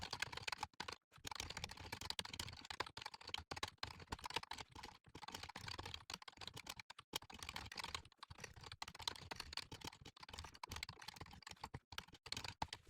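Rapid, irregular keystrokes on a computer keyboard as code is typed, steady close-up clatter for the whole stretch with brief pauses between bursts, and no voices.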